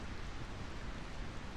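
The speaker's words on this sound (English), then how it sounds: "I find this rain quite pleasant." Steady rain from the Final Fantasy IX video game, falling over the city of Burmecia, a dense, even hiss with no breaks and no voices.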